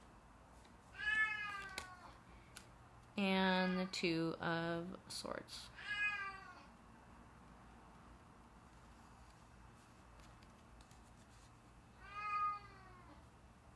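A cat meows several times in bright, drawn-out cries, with a few short yowls clustered together, while a person talks quietly in between.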